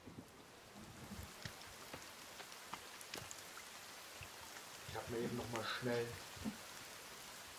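Steady thunderstorm rain hisses and patters throughout in the survival game The Forest at night, with someone speaking German over it and a brief louder burst of rain noise near the end.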